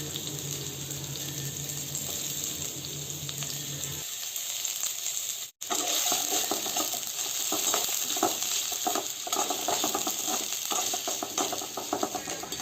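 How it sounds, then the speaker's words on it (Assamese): Onions and green chillies frying in hot oil for a chicken gravy, a loud steady sizzle and crackle that jumps brighter midway as the vegetables hit the oil, with a brief break, no talking. "এতিয়া এই গৰম হৈ থকা তেলখিনিত মই পিঁয়াজ আৰু জলকীয়া দি দিছোঁ আৰু এইখিনি ভাজিম।"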